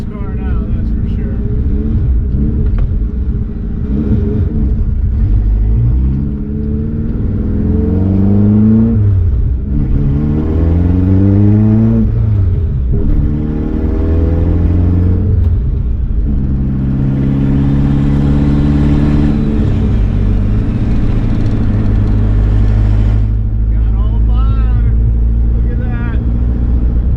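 A K-swapped Toyota MR-2 Spyder with a triple-disc clutch revs and accelerates on a road, its engine note sweeping up repeatedly through the gears, loud and close, with speech over it.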